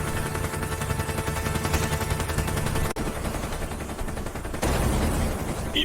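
Rapid, continuous bursts of gunfire in an action film rattle on without pause, loud and dense, with a brief dip midway before the barrage resumes.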